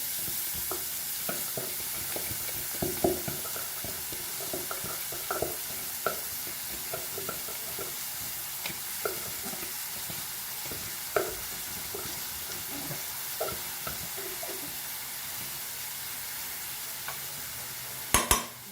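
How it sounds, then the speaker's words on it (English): Onion and chili frying in a pan for a Goan dried-prawn kismoor, a steady hissing sizzle with soft, irregular stirring clicks and scrapes throughout, ending in a couple of sharper knocks. "And fry this nicely."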